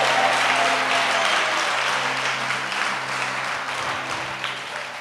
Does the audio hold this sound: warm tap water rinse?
no